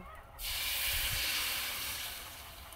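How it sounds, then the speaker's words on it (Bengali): Water hits a hot pan of fried khesari lentils and bursts into a loud, sustained hissing sizzle that slowly eases off over a couple of seconds. "ডালটা ভালো করে ভেজে নিয়েছি, এবার এখানে 1 বাটি জল দিয়ে দেব।"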